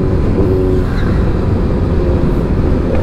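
A vehicle's engine drones steadily and loudly on a highway, with a continuous low road rumble and slight revving throughout, close to the listener and without speech.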